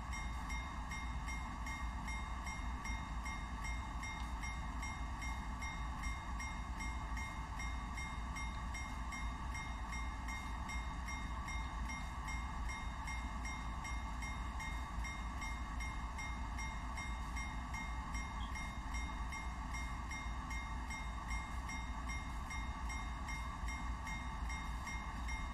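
Train Sim World 2020 simulates a loaded coal train rolling along, giving a steady, unbroken rumble and hum of wheels and engine that stays constant and moderately loud, with no talk.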